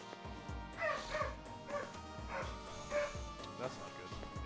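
Repeated barks and whimpering yips from a dog in a video game come in quick succession over a busy game soundscape, with a voice speaking at times.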